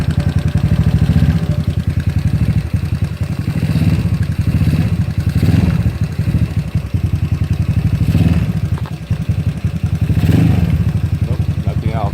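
A ZNEN ZN150T-9 scooter engine on an SSR Interceptor 150 runs nearby in a steady mid-pitched putter, swelling with several throttle blips, with a voice talking over it.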